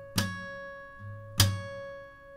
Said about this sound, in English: We play slap and 1st string at the same time.